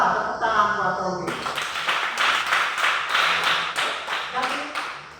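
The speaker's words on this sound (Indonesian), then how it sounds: "Tepuk tangan buat Tommy." A classroom of pupils claps for a classmate during a lesson: after a brief voice, rhythmic unison claps ring out close by, about a dozen sharp beats in a steady pattern.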